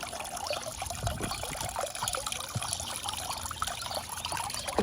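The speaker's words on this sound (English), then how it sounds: "Kind of let the water drain out a little bit." Water trickles and dribbles steadily out of a Kraftek Pool Keeper K1 handheld pool vacuum, with light splashing and dripping throughout, fairly close and continuous, no voices.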